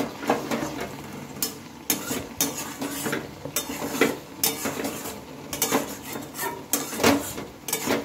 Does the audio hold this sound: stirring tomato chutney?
yes